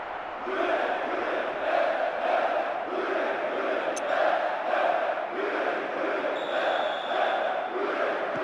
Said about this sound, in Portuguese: Olha a festa da torcida! Que gol importante para eles! O barulho é ensurdecedor!